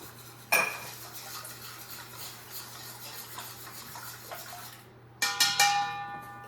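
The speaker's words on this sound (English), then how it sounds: "Mix everything until you don't see" Spoon clinking and scraping against a bowl while mixing chocolate sourdough ingredients with sugar, vanilla and starter, soft stirring followed by a burst of bright metallic clatter near the end, no talking.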